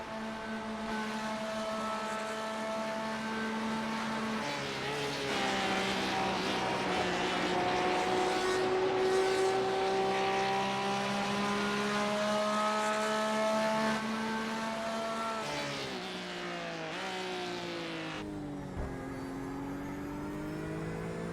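Porsche 911 RSR GTE race cars at Silverstone roar down the Hangar Straight, several engines blending into a loud, continuous howl whose pitch climbs and shifts as the cars accelerate and pass.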